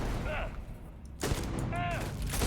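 Gunfire in the video game Starfield comes as a couple of sharp bursts with a loud crack partway through, sitting under and between snatches of a voice.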